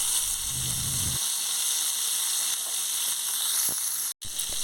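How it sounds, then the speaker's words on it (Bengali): Pieces of pointed gourd sizzle and fry steadily in a hot pan, a constant close hiss with a brief stir near the end. "পটল ভাজতে একটু সময় লাগে, ওগুলোকে উল্টে পাল্টে একটু সময় নিয়ে ভেজে নিতে হবে"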